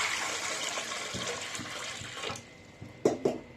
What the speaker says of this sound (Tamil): நம்ம அதில் கொஞ்சம் தண்ணி சேர்த்துக்கிறேன்.